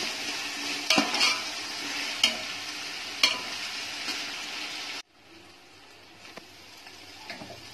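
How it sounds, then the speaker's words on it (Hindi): Vegetables with softened tomatoes for veg pulao are stirred and fried in a pan, a continuous close sizzle with a few sharp spoon scrapes, after which the frying drops to a quieter bubbling hiss. "अब ये तरकारी को अच्छे से मिक्स कर लेना है।"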